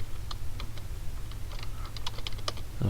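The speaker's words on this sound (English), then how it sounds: "I'm going to click in here, and I'm going to start typing something" Fingers type on a computer keyboard in an irregular patter of quick, light clicks over a steady low hum, close and moderately loud.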